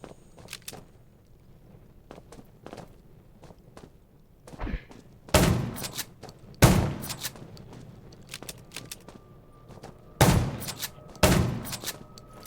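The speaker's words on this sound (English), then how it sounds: "Gunshots will attract more." Gunshots ring out in the zombie game Undawn: scattered sharp cracks and thuds, with several loud close blasts arriving in clusters over a quiet low rumble, with no talk.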